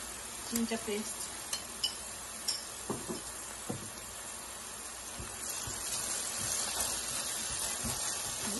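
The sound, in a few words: garlic and ginger paste cooking in pan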